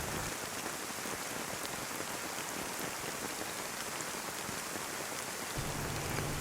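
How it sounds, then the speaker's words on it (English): Heavy downpour in the survival game DayZ, a steady dense hiss of rain pounding surfaces that holds loud and unbroken throughout, with no voices. "Went from raining a little bit to downpour."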